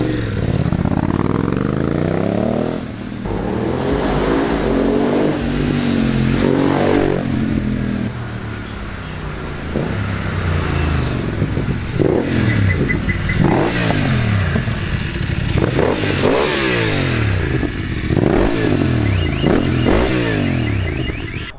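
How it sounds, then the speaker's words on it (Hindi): BMW GS motorcycle with a Dominator HP1 exhaust and decat pipe, revving loudly up close for a sustained stretch, engine note rising and falling through repeated throttle blips over a steady idle rumble. "और अब इंजॉय करो एग्जॉस्ट नोट।"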